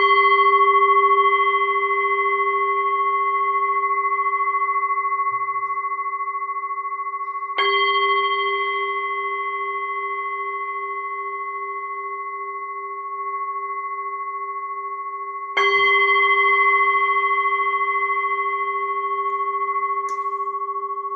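A meditation bell rings three times at even, spaced intervals to open a metta meditation. Each strike sounds clear and loud, with a long, sustained ringing tone that slowly fades before the next.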